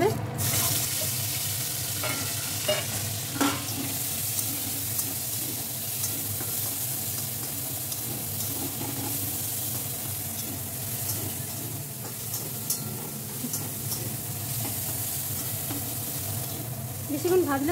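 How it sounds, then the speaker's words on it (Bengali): Shrimp frying in the same oil left from frying pointed gourd, a continuous sizzle with occasional spatula scrapes and clinks and a watery hiss, with a voice now and then. "এবার ওই তেলেই একটু চিংড়ি মাছগুলো ভাজা হবে।"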